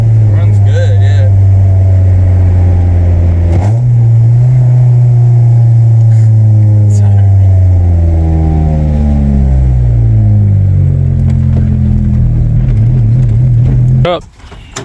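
A 1997 Honda Civic with a freshly swapped engine idles steadily and loudly, its low drone dipping briefly and recovering before cutting off near the end, with a person talking over it.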